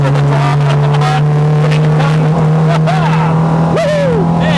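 A cammed, carbureted 1980s Peugeot 205 GTi stage rally car engine roars loud and close, holding a steady drone and then revving higher, with people talking over it.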